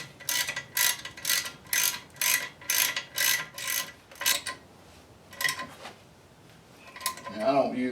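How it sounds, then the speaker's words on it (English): A ratchet tightens 3/8 Allen brake caliper bolts on a 1985 Chevy K10 during a restoration, with about ten evenly spaced, loud, close clicking strokes, then a few slower ones before a short metallic clatter. "Now we're ready to tighten these caliper bolts up"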